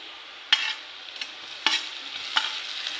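Ground green chili, garlic and cumin paste stirred into fried onions for pithla, a steady hiss of frying broken by three quick spoon strokes.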